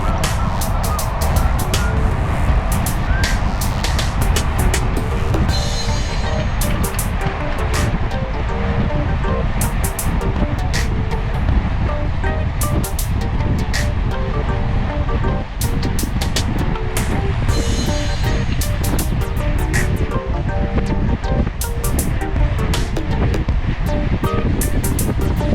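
Steady wind roar buffeting a group of cyclists riding together on a road, loud and continuous throughout with broadband rushing and occasional gusty flutter, no talk in the clip.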